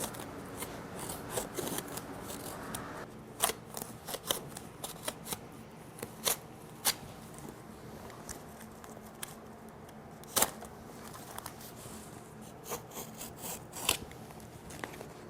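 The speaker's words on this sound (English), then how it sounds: "Use a sharp knife and trim away the excess canvas." A sharp knife trims excess canvas on a tambour sliding cabinet door, giving continuous close scraping and rasping cuts with sharper ticks scattered through, moderately quiet and with no talk.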